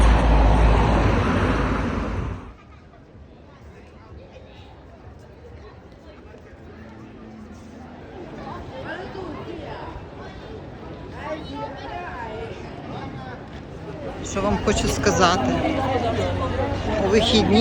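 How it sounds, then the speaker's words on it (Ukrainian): Steady city street noise in Oxford with passing cars and a murmur of people, louder at the start and end, a constant roadway hum throughout. "Дуже гучна ця вулиця, але я люблю Оксфорд."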